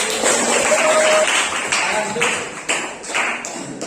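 A classroom audience claps briefly after a Quran recitation of Surah Luqman, a short loud burst of scattered hand claps that quickly thins out.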